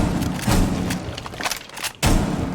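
Several heavy shotgun blasts in Rainbow Six Siege, loud and close, with booming thuds spaced irregularly and a sharp final shot after a brief lull.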